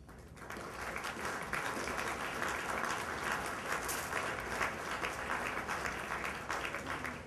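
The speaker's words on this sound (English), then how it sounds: "Would you please stand up and please give those individuals a round of applause?" A gala audience bursts into sustained applause, steady dense clapping holding at an even level for several seconds across a large room.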